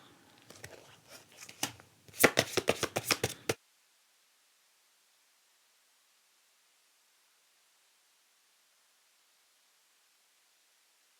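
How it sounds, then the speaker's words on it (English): Playing cards are shuffled in a few crisp, rapid fluttering bursts, close and fairly quiet, followed by several seconds of silence. "Shuffling some cards here."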